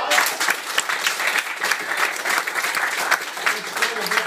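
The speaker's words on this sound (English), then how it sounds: "Give them a big round of applause." Audience applause at an improv comedy show: a full, sustained wave of clapping from the crowd, loud and close, filling the whole stretch without a break.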